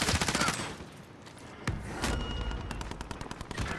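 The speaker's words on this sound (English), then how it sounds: "I'm getting shot in the back, I didn't fucking realise" Bursts of rapid automatic gunfire and single shots crackle in a shooter video game, dense and loud at first, then continuing in repeated volleys with a heavy blast near the middle.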